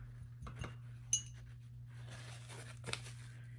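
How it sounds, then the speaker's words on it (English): A paintbrush is rinsed in a glass jar, with a few light clinks of brush against glass and soft swishing of water, quiet and close, over a steady low hum. "So I'm going to go ahead and rinse my paintbrush."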